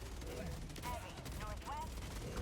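Gunfire from the video game Helldivers 2, with bursts of shots and impacts layered in a dense, loud battle mix, mostly steady throughout without clear talk over it.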